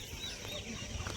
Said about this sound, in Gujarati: પક્ષીનો અવાજ આવે છે